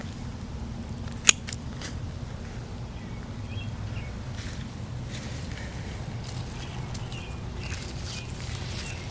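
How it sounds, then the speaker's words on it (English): Scissors trimming garden plants outdoors, one sharp close snip followed by faint intermittent cuts over a low steady ambient rumble, with soft bird chirps in the background. "So it's good that I'm trimming these up."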